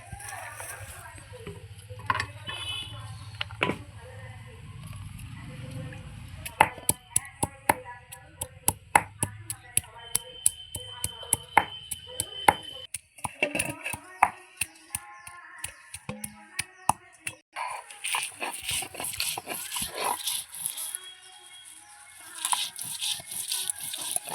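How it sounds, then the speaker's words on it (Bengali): Ginger and garlic ground by hand on a stone grinding slab: repeated sharp scraping and knocking strokes in an uneven rhythm, close and fairly loud, with a voice talking over parts of it. "আদা রসুনটা আমি বেটে নিচ্ছি"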